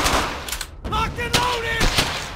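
Gunfire crackles in the World War II video game Brothers in Arms: Hell's Highway, with several sharp bursts of shots mixed with shouted voices.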